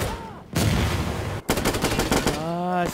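Gunfire crackles in close, rapid bursts, like a machine gun, broken by a short pause, with a faint voice briefly underneath.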